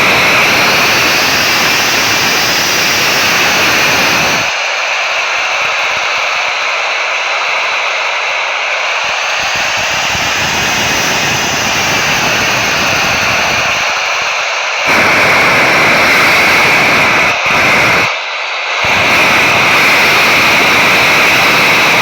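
Jet engines of an Emirates airliner roar loudly and steadily through the takeoff run at Dubai International Airport, a broad sustained rumble with a whining high tone, heard from inside the cabin with brief dips and cutoffs.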